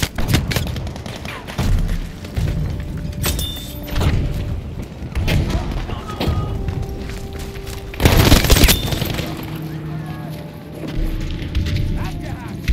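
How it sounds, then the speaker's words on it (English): Battlefield 5 Conquest combat with an M2 Carbine: a thrown grenade explodes alongside repeated gunfire bursts and heavy booms, with the loudest blast about two-thirds through, all dense and close amid a noisy battlefield. "Tossing a grenade!"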